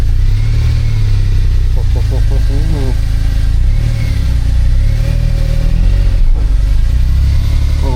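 A car with brake problems idles loudly, its engine close and rumbling steadily while being put into reverse, with a brief speech-like warble partway through.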